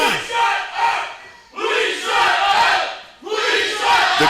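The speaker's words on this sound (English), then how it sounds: "The crowd giving it to Patrick Gilbert." A wrestling event crowd shouting and jeering at a wrestler in three loud, sustained surges of many voices, with brief dips between them in an indoor arena.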